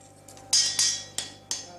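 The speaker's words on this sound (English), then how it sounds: "the rhythm of the hammer striking the anvil" A hammer strikes an anvil in a forge, with four sharp metallic blows at an uneven working rhythm, each ringing bright and decaying before the next.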